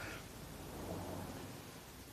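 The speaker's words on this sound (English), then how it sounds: "The skies have opened up. The rain is on for the day." Steady heavy rain with a low rumble of thunder, a dense continuous wash of sound heard from inside a van under build, faint and even throughout with no voices.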